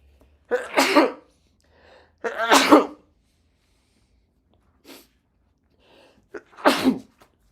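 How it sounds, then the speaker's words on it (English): Three loud, close sneezes spaced a couple of seconds apart, with a quieter sniff or breath between them. "Hold on, I gotta sneeze."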